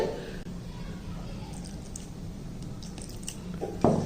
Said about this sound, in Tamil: இதை நல்லா மிக்ஸ் பண்ணிக்கிடுவோம்.